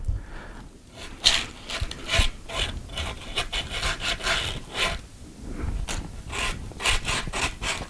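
Holes in a timber piece for a weather station are sanded by hand with paper wrapped around a finger, giving close, rhythmic rasping strokes in short bursts with brief pauses between.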